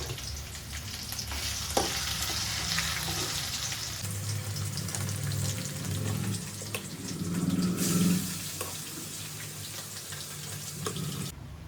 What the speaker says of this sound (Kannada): ಅಮ್ಮ ಚಿಕನ್ ಒಗ್ಗರಣೆ ಹಾಕ್ತಿದ್ದಾರೆ ನೋಡಿ